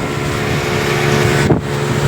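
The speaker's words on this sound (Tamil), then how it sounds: "இதுதான் ஸ்கை போட், ஃபாஸ்ட்டாக போவோம்." A ski boat speeds across Pykara lake in Ooty, its motor droning steadily with constant wind and water rush, close and loud for the whole stretch.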